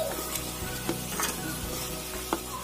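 Chicken goes into a pan of well-fried masala for a naan sandwich filling, giving a close, steady sizzle with a few scraping stirs and soft clicks over a low hum.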